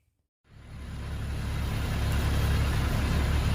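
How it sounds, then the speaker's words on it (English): A converted school bus engine idles after starting up, a loud, steady low rumble that begins abruptly and holds without change, with no talk over it. "So the bus is running"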